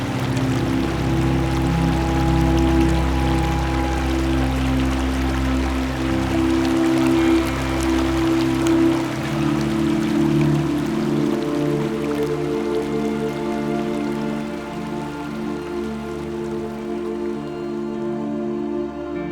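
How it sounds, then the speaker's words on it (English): A river flows steadily with leaves fluttering in the wind beside an old barn from the late 1800s, a continuous rushing wash of water at moderate loudness, unbroken and without voices. "hearing those leaves flutter in the wind and the sound of the river together"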